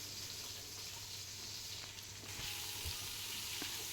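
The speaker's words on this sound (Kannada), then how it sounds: "ಚೆನ್ನಾಗಿ ಆನಿಯನ್ನೆಲ್ಲ ಫುಲ್ ಗೋಲ್ಡನ್ ಬ್ರೌನ್ ಬರಬೇಕು, ಅಲ್ಲಿ ತನಕ ಫ್ರೈ ಮಾಡಿ" Chopped onions frying in oil with spices in a pan for chicken dum biryani, giving a steady, close sizzle that runs unbroken with a few faint stirring clinks.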